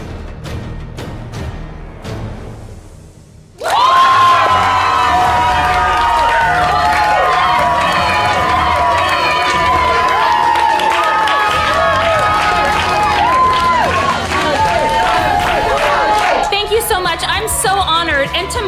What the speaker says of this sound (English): And now let me hear an applause for Ashley.